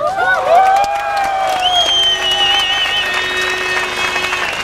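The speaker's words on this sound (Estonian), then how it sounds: "teeme koos kõikidele Tallinna tudengitele ilusa suure aplausi" An audience applauds and cheers for Tallinn students, with claps running steadily alongside whoops and a high, sliding whistle-like tone over a dense crowd.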